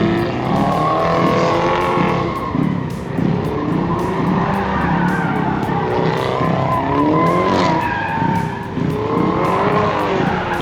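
A BMW drift car slides with its wheels turned sideways, tires skidding and squealing in long wavering howls over a steady, loud engine drone, sustained throughout.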